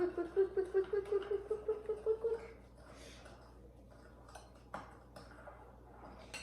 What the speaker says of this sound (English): mix it, and then mix it while we put the sugar in there